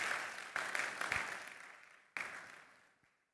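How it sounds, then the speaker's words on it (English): Lecture audience applauds in a soft, distant wash of clapping that swells, fades, then returns briefly before dying away into quiet. "Can we give them a round of applause?"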